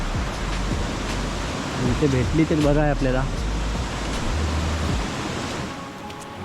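River water flows steadily beside the riverbank in the rainy Konkan countryside, a continuous broadband rush that stays even throughout, with a voice speaking briefly over it in the middle.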